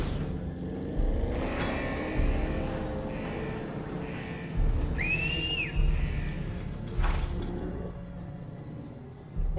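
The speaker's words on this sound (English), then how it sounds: "they're getting irritated that I keep whistling at them" Whistling at dinosaurs in the video game Jurassic World Evolution 3, with a brief rising-falling whistle tone in the middle over a steady low rumble of game ambience and engine-like noise.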